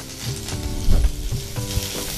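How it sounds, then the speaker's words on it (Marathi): Lentils and fresh grated coconut sizzle in a hot oil tempering in a pan, a steady close frying hiss broken by a few stirring clatters, with no one speaking. "2 मिनिटं हे असं परतून घ्यायचं आणि ताबडतोब ही डाळ घालायची."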